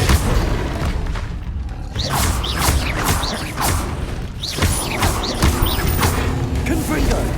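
Confringo blasting-spell explosions in the Hogwarts Legacy video game, a busy run of booming blasts and crashing impacts under voices calling out spells.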